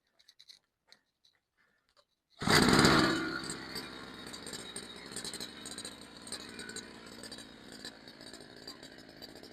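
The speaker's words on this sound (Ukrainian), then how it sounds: "І зараз запустимо двигун, щоб з карбюратора вигоріли усі залишки." A petrol brush cutter engine is started and run at idle to burn leftover fuel out of the carburetor. After a few faint clicks and near silence, it roars into a loud, steady high-pitched buzz that eases slightly and keeps running.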